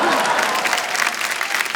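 Studio audience applause during a KBC India quiz show taping, a dense, steady wash of clapping from the crowd, loud and continuous throughout.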